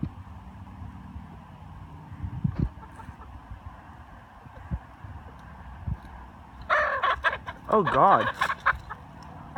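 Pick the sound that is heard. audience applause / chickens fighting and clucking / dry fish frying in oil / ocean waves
chickens fighting and clucking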